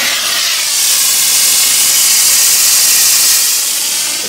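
A professional steam cleaner working on a motorhome gives off a loud, steady, close hiss of steam that holds unbroken throughout.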